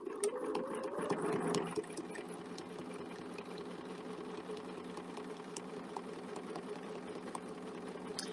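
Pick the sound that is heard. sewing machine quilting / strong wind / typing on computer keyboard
sewing machine quilting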